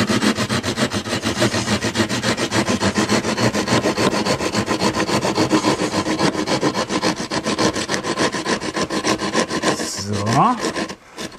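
A keyhole saw cutting into drywall plasterboard during a two-layer prefab house wall job, with rapid rhythmic rasping strokes, loud and close, continuous for about ten seconds before a brief voice at the end.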